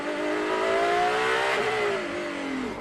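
Onboard a prototype hypercar spinning on cold tires during an endurance race, the engine revs high, then its pitch sags and wavers as the car loses grip. The sound is loud, close and continuous, with no voices.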